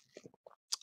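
Someone chewing a mouthful of cereal, a few short, close crunchy bites separated by brief pauses, quiet and alone.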